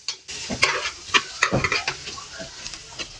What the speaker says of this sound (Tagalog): dito sa pinagprituhan ko ng hotdog tsaka itlog, magigisa naman tayo. Bawang, tsaka sibuyas.